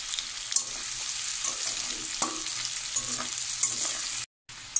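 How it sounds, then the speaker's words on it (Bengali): Chopped onion and garlic fry in hot oil while a utensil stirs them, a steady close sizzle broken by scraping knocks of the spoon against the pan and a brief cut near the end. "নেড়ে চেড়ে ভালো করে একটু ভেজে নেব।"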